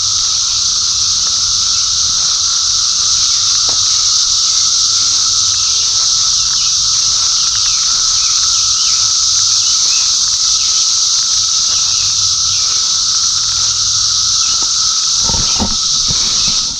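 Cicadas call at Morris Reserve in a loud, unbroken high buzzing chorus with a steady shrill whine layered above, filling the bush backdrop from start to finish with a few faint knocks near the end.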